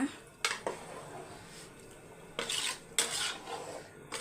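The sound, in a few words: stirring rice and water in a cooking pot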